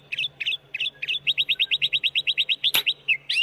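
Small bird chirps in a rapid, regular series of bright, sharp notes, close and clear, after a few spaced opening calls, with one brief broadband click partway through and no talking.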